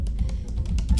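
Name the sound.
typing on a computer keyboard to log in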